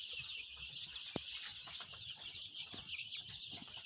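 Young chicks in a brooder on a layer farm, a soft constant chorus of high cheeping with a few brief louder peeps and knocks, faint and close.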